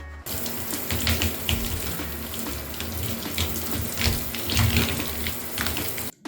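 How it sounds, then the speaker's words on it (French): Tap water running steadily while washed hair is rinsed after a shampoo, a continuous close splashing stream with slight fluctuations that stops abruptly at the end. "C'est parti pour le rinçage."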